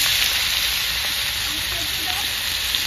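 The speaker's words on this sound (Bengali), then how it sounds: "আলু পোস্ততে 4টে শুকনো লঙ্কা দিয়ে আলুটা ঢেলে দেবো" Potatoes poured into a hot frying pan with four dried chillies for Bengali aloo posto, giving a steady, close, continuous sizzle of frying food with no talk over it.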